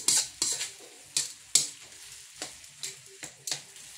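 Shrimp browns in garlic butter in a pan, a soft sizzle with sharp, close clinks and scrapes of a utensil stirring against the metal every half second or so; no talking.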